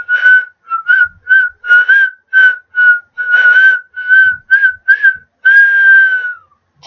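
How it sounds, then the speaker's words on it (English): Troops in the video game Awesome Conquest whistle a bright, clear tune of short repeated notes, loud and unaccompanied, ending on one long sliding note. "These lot, they look like they're whistling"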